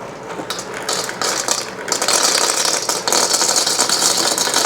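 Nugget ice tumbles out of an ice maker's cup into a container, a dense, bright rattling clatter of small cylindrical pieces that builds after a hesitant start and pours continuously to the end.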